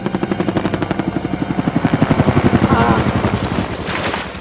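A helicopter from the TV show LOST with a loud, rapid rotor thudding that swells and pulses steadily throughout, heavy and close.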